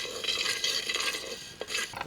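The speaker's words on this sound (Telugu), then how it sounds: "ముందుగా మిరియాలు, కొంచెం మెంతులు వేసుకొని దోరగా వేయించుకోవాలండి." Black pepper and fenugreek seeds roasting in oil for temple-style pulihora, a close hiss and crackle with stirring scrapes, brief and fairly loud, no voices.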